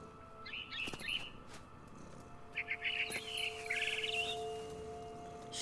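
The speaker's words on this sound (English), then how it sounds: "Then I heard chirping outside my window. It was a barn swallow going back to her nest." Barn swallow chirping in the video game What Remains of Edith Finch, quick twittering bursts of high tweets, quiet and a little distant over faint low hum, with a few soft knocks.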